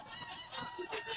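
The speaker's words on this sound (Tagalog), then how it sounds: "Maraming manok si Boss Albert Dala." Chickens at a Sunday pet market, giving a few brief clucks and squawks close by over a busy, noisy background, with no clear talk.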